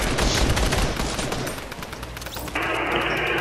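Rapid bursts of gunfire from a Fortnite match, with dense repeated shots in the opening seconds fading to scattered pops, followed by a steady game tone near the end.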